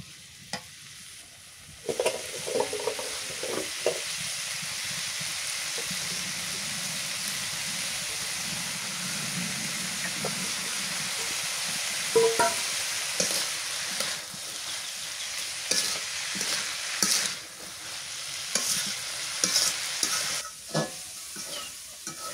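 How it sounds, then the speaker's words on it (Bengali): Taro stalks fry in a pan with dried fish and garlic paste, giving a steady close sizzle for the whole stretch, broken by scraping stirs and occasional louder spatters toward the end. "এটা একদম করকরা করে ভাজি করা লাগবে"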